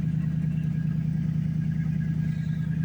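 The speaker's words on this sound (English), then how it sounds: "she's also loud because the young gentleman cut the exhaust off of it" A car engine with its exhaust cut off rumbles loudly and steadily at idle, a deep, even drone held close throughout with no voices over it.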